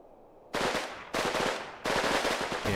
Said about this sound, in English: That bloody machine gun, that left position.